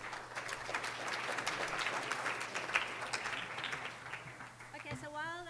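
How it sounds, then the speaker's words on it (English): An audience at a presentation on a Western Cape early-childhood initiative gives a round of applause, a steady wash of clapping through most of the clip before a voice starts speaking at the end. "So I think we should give them a round of applause."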